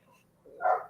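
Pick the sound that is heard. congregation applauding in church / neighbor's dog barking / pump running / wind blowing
neighbor's dog barking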